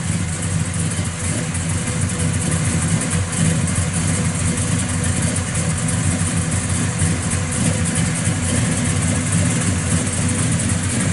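A 1970 Chevrolet Chevelle SS with a 396/540 V8, ceramic-coated headers and 3-inch exhaust idles close by, a loud, steady, rumbling engine note with a lopey pulse and no talk.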